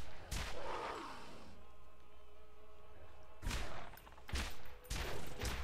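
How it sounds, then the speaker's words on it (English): Gunfire while shooting a skag in the video game Borderlands: a few sharp, loud shots, one early and a cluster of three near the end, with a low droning game soundscape filling the gaps. "So let's just shoot this skag."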